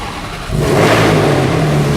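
A Brabus SV12 R biturbo Mercedes-Benz engine fires up partway through and settles into a loud, steady rumbling idle with a slight rev, close by, with the exhaust valves open.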